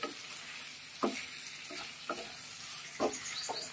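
Spice masala being sautéed in a pan with soft vegetables for a light fish curry, a low hushed sizzle under several rhythmic stirring scrapes of a spoon, quiet and close, with no voices.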